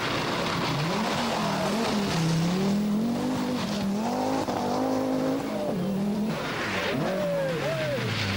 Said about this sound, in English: Marc Duez drives the Audi Quattro for the first time, giving some spectators a close look at the car.